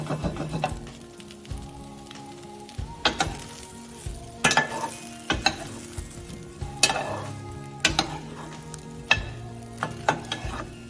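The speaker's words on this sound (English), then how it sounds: "In the same pan, add the frozen meatballs and cook until they are heated through" Frozen meatballs sizzle steadily in a pan, with repeated clinks and scrapes of a utensil stirring them at an uneven rhythm throughout.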